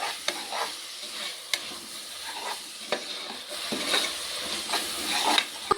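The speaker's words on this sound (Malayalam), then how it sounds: "ഇത് നന്നായി ഒന്ന് വഴറ്റിയെടുക്കാം." Onions with a pinch of salt sauté in a pan for a beef curry, a steady sizzle broken by scraping stirs and a few sharp clinks of the spoon against the metal, close and continuous with no talking.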